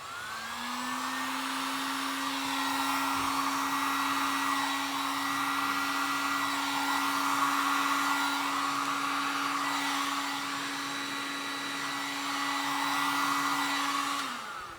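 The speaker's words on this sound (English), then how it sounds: "I'm just gonna go in my heat gun. Just warm it up a bit." A heat gun blows hot air in a steady, loud whine over a rushing airflow roar, holding constant for about fourteen seconds before shutting off.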